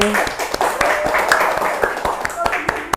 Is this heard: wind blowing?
no